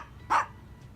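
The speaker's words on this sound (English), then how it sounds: "You're just barking for nothing." A single short dog bark rings out at moderate distance, sharp and clear over faint outdoor background.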